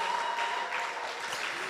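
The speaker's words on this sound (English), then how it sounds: "A round of applause." A large audience applauds steadily and densely at the close of the FECAMDS national symposium, a Catholic medical and dental convention, with no talk over it.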